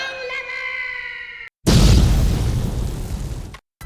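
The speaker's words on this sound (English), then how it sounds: "seemingly protecting Mimith as a myriad of explosions rang the fuck out, collapsing the tunnels and erupting the outer wall of Farah's home" A burst of explosions collapses stone tunnels and blows out an outer wall in a fantasy dungeon scene: one sudden, loud, broad boom with a roaring rumble that fades over about two seconds, preceded by a short tonal sound.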